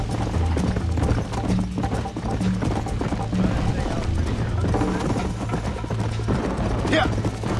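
Hooves clip-clop in a steady, loping rhythm as a horse gallops in the Red Dead Redemption video game, loud and continuous, with game sounds around it and a brief whinny near the end.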